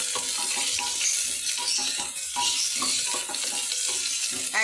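Chili and onion frying in a little hot mustard oil, a steady loud sizzle with crackling and occasional stirring scrapes, close and continuous.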